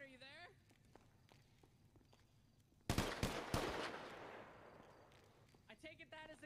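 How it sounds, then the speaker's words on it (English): Video game gunfire in a gang-versus-SWAT shootout in Grapeseed: a quick burst of several loud shots fires midway and trails off into a long echoing decay, with voices talking before and after. "That was you shooting."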